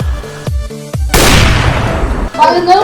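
Sharp, loud pistol gunshot effects in a Minecraft gameplay setting: a few quick booming shots followed by a long crackling blast that trails away, then a short burst of sound at the end.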